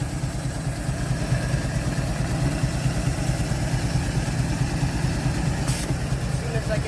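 A 1948 Chevy engine, running again after decades off the road, idles with no choke in a loud, steady, even rumble that continues unbroken throughout.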